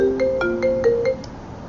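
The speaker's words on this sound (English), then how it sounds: "I received a phone call on my computer." A computer rings with an incoming phone call, playing a short melodic ringtone of clear, steady tones in a quick repeating pattern, close and fairly loud, that fades out over the last half second.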